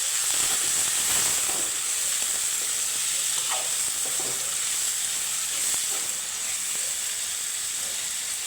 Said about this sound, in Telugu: ఈ క్యారెట్ ఆనియన్స్లోకి యాడ్ చేద్దాం వేసుకొని మొత్తం ఒకసారి కలిపేసుకోవాలి